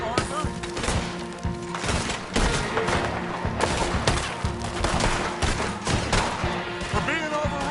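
Rapid gunfire crackles through a Red Dead Redemption 2 battle, dense overlapping shots and volleys filling the scene, with shouting voices mixed in under the barrage.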